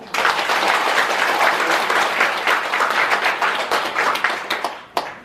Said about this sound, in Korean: 자, 한번 박수 한번 해주시면.